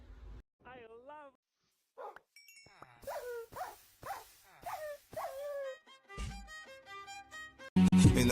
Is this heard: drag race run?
no